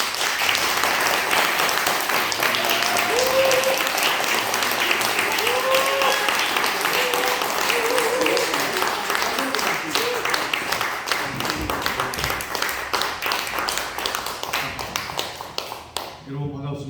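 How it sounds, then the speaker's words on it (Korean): Audience applause at an event in Chuncheon welcoming a speaker to the front, a dense sustained clapping from a roomful of people that fades toward the end, with some voices mixed in. "민경희 의원님 나오실 때 큰 박수로 환영해 주시기 바랍니다"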